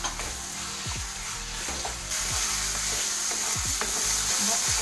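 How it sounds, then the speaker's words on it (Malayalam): Onions, tomato, ginger and garlic frying in a pan for a Kerala egg roast, with a steady close sizzle and repeated scraping stirs of a spatula throughout, no voices. "സവാള നല്ലപോലെ വാടി വന്നിട്ടുണ്ട്. അതിലേക്ക് അരിഞ്ഞ് വെച്ച തക്കാളി ഇട്ട് കൊടുക്കുക."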